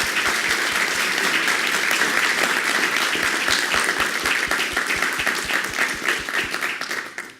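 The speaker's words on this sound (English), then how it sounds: "Let's give him another round of applause." Sustained audience applause at a community forum, dense steady clapping from a crowd that holds strong and then tapers off toward the end.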